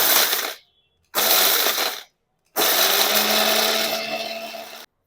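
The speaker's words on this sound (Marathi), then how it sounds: "हे आता आपण बारीक करून घेऊया।" A mixer grinder whirs loudly through three bursts, two short and one longer, grinding green chillies, cumin, coriander and ginger into a fine paste, with brief silences between runs and the motor pitch shifting as the blades spin down.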